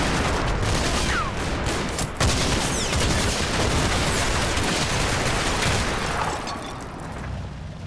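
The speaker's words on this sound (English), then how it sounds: "Look at the number of shots going on here." Many soldiers firing at once in a Combat Mission: Battle for Normandy battle, a dense, continuous fusillade of rifle and machine-gun shots with distant booms, loud throughout and easing slightly near the end.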